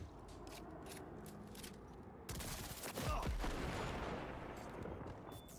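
A double-barrel shotgun fired in the video game Cyberpunk 2077, one loud boom followed by a heavy rumbling tail, set against a busy background of game noise and faint mechanical clicks.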